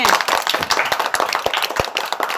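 Steady applause from a group of children clapping for Sonali, who collected all the prizes in an indoor party game, dense and continuous with sharp individual claps throughout.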